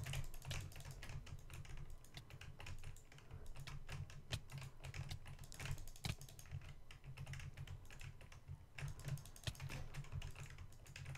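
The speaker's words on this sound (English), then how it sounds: "My keyboard's so loud." Rapid, loud computer keyboard typing during Minecraft PvP play clatters continuously, with dense close-up key strikes over a steady low hum.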